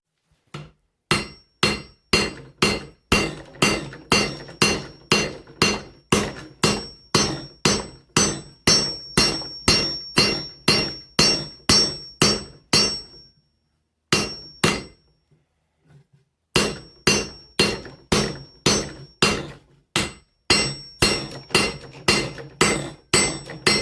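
Steady, ringing hammer blows strike hot steel on an anvil while an axe is forged, dozens of evenly spaced loud metallic hits, briefly pausing before the rhythmic pounding resumes.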